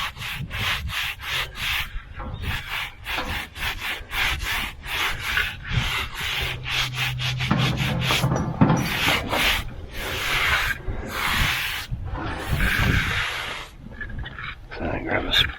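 A wooden face is smoothed by hand with quick, repeated rubbing swipes, loud and close. The strokes come in rhythmic bursts with brief pauses and no talking.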